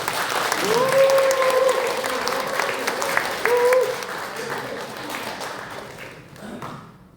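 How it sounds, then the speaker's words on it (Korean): A lecture audience at a humanities academy talk gives sustained, dense applause for several seconds, fading out toward the end, with a voice heard briefly over it. "여러분 박수 한번 주시죠"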